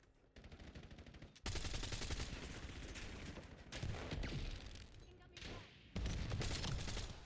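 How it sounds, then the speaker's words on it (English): Sustained bursts of automatic gunfire in Black Ops 7, loud and close, with rapid overlapping shots in several dense volleys and brief lulls between them. "I see some gunfire."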